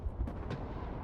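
A nuclear bomb detonating in the war video game Broken Arrow produces a deep, rolling rumble that swells and holds steady for about a second, with no voices over it.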